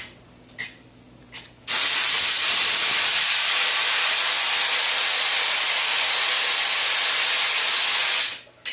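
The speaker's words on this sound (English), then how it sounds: "I release the steam till the gauge drops all the way down to below 5" Steam from a pressure canner pot on a stovetop being vented: after a few faint clicks, a loud, steady hiss starts abruptly and holds unbroken for about seven seconds before cutting off.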